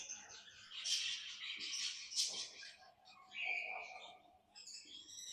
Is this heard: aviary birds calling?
yes